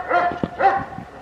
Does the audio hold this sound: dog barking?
yes